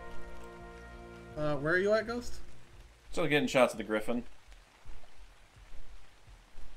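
Steady rain falls in the ARK Ragnarok video game, a soft continuous hiss running throughout beneath two people talking over voice chat.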